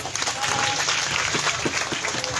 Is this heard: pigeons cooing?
no